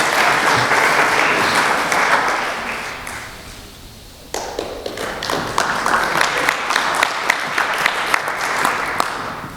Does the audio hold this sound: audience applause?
yes